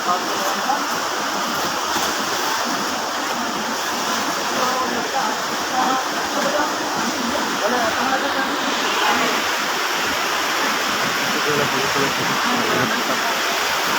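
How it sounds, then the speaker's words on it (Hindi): Loud, steady roar of a flooded river rushing after heavy rain near the Rajrappa temple, broadband and continuous throughout, close and overwhelming with no pauses. "उफान पर है पानी।"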